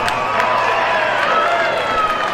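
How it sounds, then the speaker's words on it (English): A wrestling crowd cheers and applauds for Lee, a dense, loud, steady roar of voices and clapping in an arena. "The crowd is really getting behind Lee right now."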